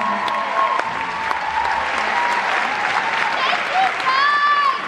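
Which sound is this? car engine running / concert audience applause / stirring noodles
concert audience applause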